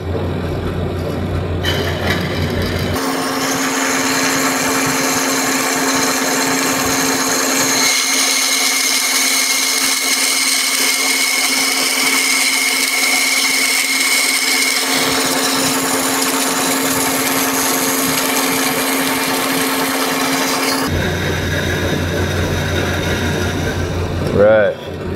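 A vertical metal bandsaw runs steadily with a constant high whine, and a rougher grinding layer joins in while the blade slowly cuts through metal stock, then the motor noise cuts off near the end.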